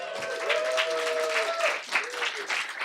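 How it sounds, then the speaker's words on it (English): A convention audience at Scotiacon 2025 applauds a panel introduction with steady clapping and some cheering, while a voice speaks over the clapping. "So round of applause for Shen."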